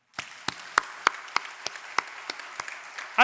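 Inside a church, a small scattering of hands claps in a fairly regular rhythm, about a dozen distinct sharp claps over three seconds, moderately close and fairly quiet with no talk over them.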